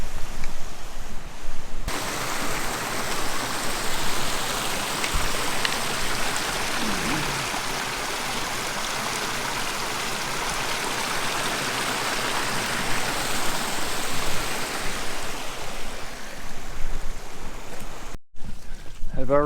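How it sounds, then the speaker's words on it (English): Broadband roar of a waterfall along the West Coast Trail, steady and loud throughout, alone with no voices, cutting off briefly near the end. "And these are the falls."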